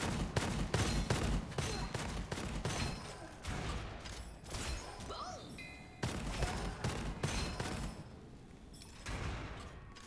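Rapid bursts of gunfire in Gunfire Reborn, with clustered shots broken by short pauses and mixed with game effects, while a player talks over part of it.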